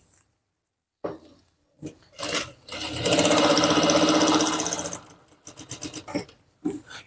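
A sewing machine stitching the collar of a men's shirt, loud and close: a few short starts, then a sustained run of rapid stitching for about two seconds, followed by brief stop-and-go bursts.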